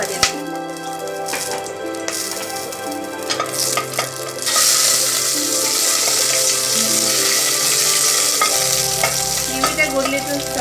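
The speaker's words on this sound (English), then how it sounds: "I'm putting the cinnamon, the cloves, and the elaichis and the curry leaf." Whole spices (cinnamon, cloves, cardamom) and curry leaves frying in hot oil for a South Indian Chettinad chicken curry, with a steady sizzle and stirring clatter throughout, rising louder about halfway.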